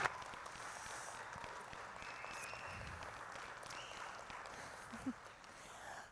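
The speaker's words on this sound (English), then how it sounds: "let's give one more round of applause for Aubrey" An audience applauds at the Miss Roy 2020 pageant, with an even, continuous patter of many hands that stays faint and distant for several seconds, and a few brief knocks or footsteps mixed in.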